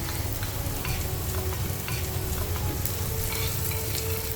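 Onion, ginger and garlic sauté in hot coconut oil, giving a steady, close sizzle with stirring scrapes and light clinks that run without pause and with no talk.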